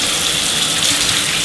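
Water runs loudly into a bath, a close, steady hissing gush that fills the whole stretch with no talk over it.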